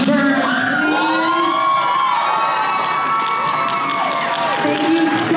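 A convention crowd at a comic con cheers and whoops for Steve Burns, a dense roar of many voices with shrill shouts rising above, sustained and loud throughout.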